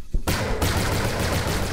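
Rapid gunfire from a weapon in the shooter game Energy Assault, a dense sustained burst after a brief quiet start, loud and continuous throughout.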